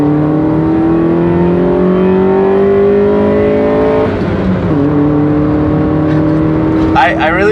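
A Mazda Miata pulls hard in second gear, its engine tone rising steadily and loud inside the cabin for several seconds, then dipping and climbing again before a shift, with people talking over it.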